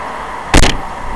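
A single loud car door slam, a sharp thud against a steady engine hum.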